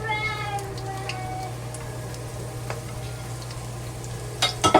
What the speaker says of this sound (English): And slowly fry the ginger and the scallion until they release good smell.